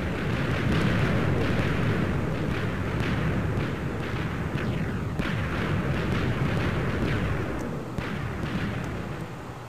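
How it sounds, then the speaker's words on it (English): Blocks of TNT going off in Minecraft, a continuous dense rumble of game explosions with repeated booms and crackling bursts that stay loud for about ten seconds with no talk. "The TNT has been set on fire. Here we go. It should explode."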